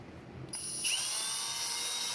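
A power drill with a bent-wire mixing paddle spins up after a brief pause and then runs at a steady high whine, close to the microphone, mixing fiberglass resin.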